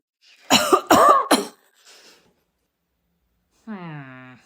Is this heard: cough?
yes